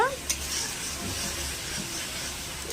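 Spice paste for a Bengali pointed gourd and shrimp curry, made with cumin seeds, ginger-garlic paste, chili and cumin powder and tomato, sizzles steadily in a pan with soft stirring scrapes, a low continuous frying hiss throughout.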